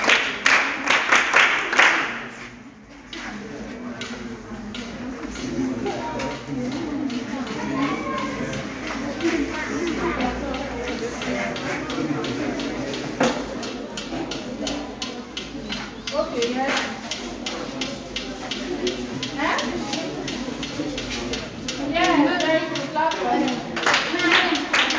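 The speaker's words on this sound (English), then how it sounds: "Clap for him." Children at a girls' sanitary education session clap in scattered, uneven bursts, fairly close. Adult and children's voices talk throughout and over the clapping, with a louder round of claps near the end.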